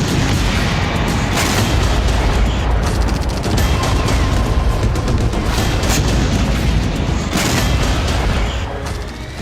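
A dense, continuous barrage of explosions in Feodosia, Crimea: booming blasts and crackling bursts, loud and sustained throughout with no clear gaps between them.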